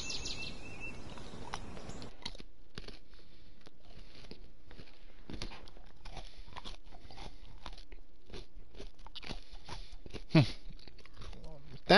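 Someone bites and chews a Crunch candy bar, crisp crunches repeating irregularly across the stretch, close and fairly loud, with a talking voice heard early on.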